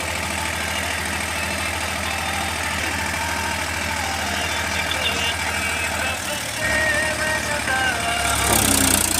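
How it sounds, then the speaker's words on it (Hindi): A Powertrac Euro 42 Plus tractor engine running with a rotavator in a farm field, a steady rhythmic diesel throb close by, shifting in load near the end as the implement works. "ट्रैक्टर चला रहे हैं"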